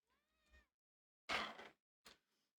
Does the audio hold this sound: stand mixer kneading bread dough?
no